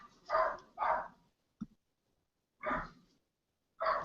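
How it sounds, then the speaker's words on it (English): A dog in a home barks in a series of about five sharp barks, two close together, then a pause and two more, with no talk over them. "my dog's barking big time"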